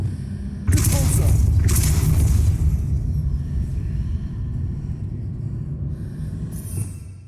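The Depulso spell fires in the Hogwarts Legacy video game, a sudden loud double blast followed by a long rumbling roar that slowly fades.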